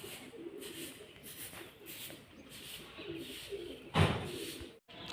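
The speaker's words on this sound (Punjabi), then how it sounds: "ਛਤਰੀ ਤੇ ਹੀ ਬੈਠੇ ਕਬੂਤਰ" Pigeons perched on a rooftop pigeon umbrella coo in soft repeated low calls close by, with a brief thump and rustle near the end.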